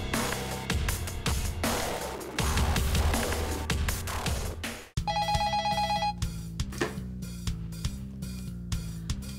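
A telephone rings as a short tonal ring partway through, set against steady background music, before the call is answered; no one speaks.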